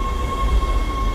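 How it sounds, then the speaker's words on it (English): A tram arrives at a flight deck station aboard a ship in Dead Space, a steady low rail rumble with a faint high whine held throughout. "Tram arriving at flight deck station."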